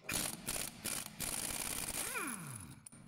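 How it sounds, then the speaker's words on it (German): A bolt being loosened beneath the strut mount of a Skoda Octavia 1.8T during front wheel bearing work, giving close, continuous metallic ratcheting with a brief whirring sweep near the end. "Da lösen wir uns jetzt hier die Schraube und dann geht das Federbein nach unten weg."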